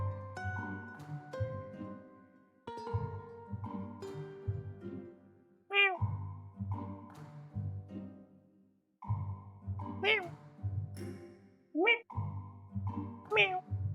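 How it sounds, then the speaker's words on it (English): A cat meowing inside a sealed box in the video game Thought Experiment Simulator, with several rising and falling meows spread through the stretch over game music and a voice talking. "If a cat meows in a sealed box, does it make a sound?"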